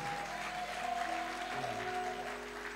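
A church congregation applauds during a French-language worship service, steady clapping with sustained tones beneath.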